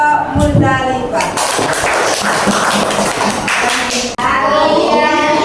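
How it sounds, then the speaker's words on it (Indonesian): A classroom audience claps for a student group named Musdalifah, with dense, sustained clapping filling the whole stretch at close range and voices mixed in underneath. "Tepuk tangan untuk kelompok Musdalifah."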